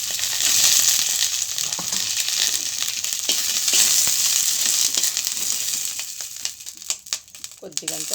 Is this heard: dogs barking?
no